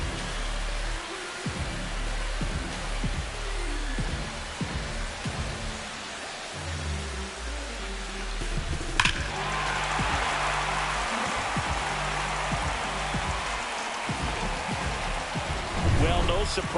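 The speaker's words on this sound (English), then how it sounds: "The rain is here, and it doesn't look like it's going away anytime soon" Steady rain falls on a ballpark during a Mets vs Phillies game in MLB The Show 25, a constant dense hiss with low rumble beneath and a single sharp crack partway through, with no clear talk.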